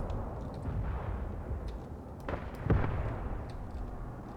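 Mortar strike explosions in the video game Graviteam Tactics Mius thud and boom distantly over a constant low battlefield rumble, with a couple of sharper blasts standing out.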